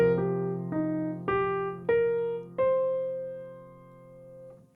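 Arpeggio falling and then rising over a held low bass note, six crisp, evenly spaced note attacks ringing close and clear, fading at the end.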